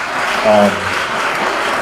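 Conference audience at a shared parenting conference applauding guest speakers, a brief burst of clapping with a voice speaking over it.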